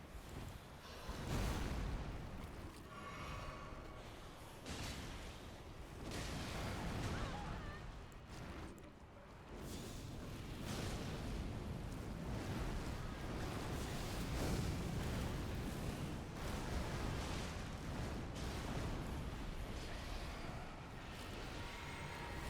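Repeated explosions blast against a mimic tear in Elden Ring combat, loud and dense over a continuous rumble of battle noise with no clear pauses.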